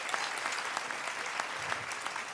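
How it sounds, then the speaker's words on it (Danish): Audience clapping at a live show in a Spejlteltet tent venue, a dense steady burst of applause filling the room at even strength throughout. "Klapper det."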